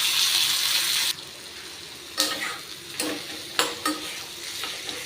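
Onions, red chillies, tomatoes, garlic and a little tamarind sautéing in a pan for Andhra-style spicy chutney: a hissing sizzle, then a few sharp stirring scrapes and bursts of frying over quieter crackle.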